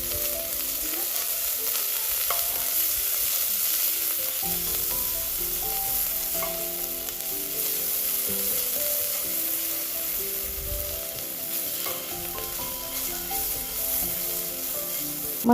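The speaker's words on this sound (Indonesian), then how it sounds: "Panaskan minyaknya dulu buat menumis bumbu halusnya yang tadi. Tumis sampai harum." Ground spice paste sizzles in hot oil in a pan while cooking soto ayam, a steady close frying hiss with occasional stirring scrapes running throughout.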